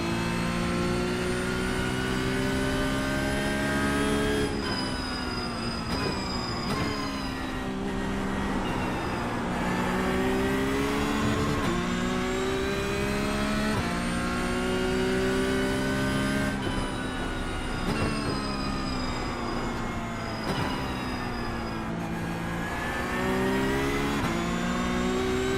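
Several iRacing race cars accelerate together off the green flag, engines revving and shifting in overlapping rising whines that swell and drop repeatedly, loud and continuous with no talk.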